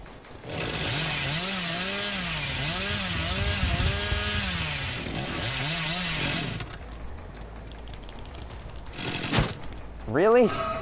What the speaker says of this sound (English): Considering my chainsaw dashes don't really happen very well.